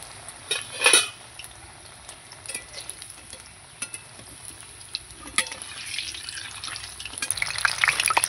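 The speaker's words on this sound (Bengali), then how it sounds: "এরকম করে লাল লাল করে কিন্তু আমি ভেজে নেব" Water lily stem fritters frying in hot oil, a steady soft sizzle with occasional stirring and utensil clinks against the pan, close and continuous throughout.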